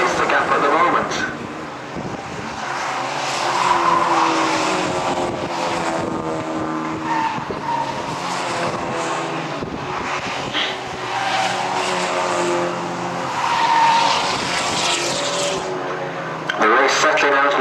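Ford XR2 race cars at Croft circuit in a Scottish championship race, engines roaring loud and continuous with passing surges, and commentary voiced over the engine noise throughout.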